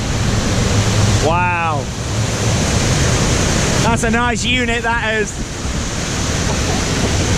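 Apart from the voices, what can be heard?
waterfalls at Heide Park theme park boat ride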